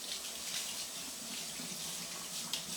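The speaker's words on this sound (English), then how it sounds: "Let me rinse this off." Something being rinsed under a running kitchen tap: a continuous, close stream of water splashing into a sink, steady throughout, with no voices.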